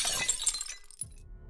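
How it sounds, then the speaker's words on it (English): Glass shattering as a coffee table top breaks: a loud, bright crash of splintering shards that sprinkles out and fades, followed by a small clink as a last piece settles, alone without talking. "The sound of shattering glass pierced his ears"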